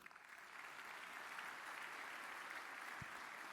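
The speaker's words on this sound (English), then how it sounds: "So huge round of applause for all of our nudie branch sponsors" Sustained applause from a conference audience thanking event sponsors at a closing ceremony, a steady dense wash of clapping that swells in and holds, with a faint whoop near the end.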